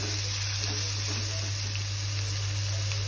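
A soft, continuous sizzle of onions frying in a pan for mutter paneer, fairly quiet and even throughout, with a low steady hum in the background and no distinct stirring strokes.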